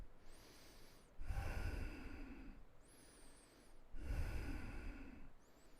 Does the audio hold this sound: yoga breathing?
yes